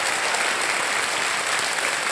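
Studio audience on a TV quiz show breaking into loud, even applause, a dense unbroken wall of clapping for a couple of seconds with no speech over it.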